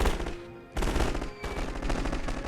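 Machine gun fire rattles in The Great War, a strategy game set in the Russian Revolution: dense rapid bursts of shots with a brief lull before the firing resumes, loud and continuous with no talk.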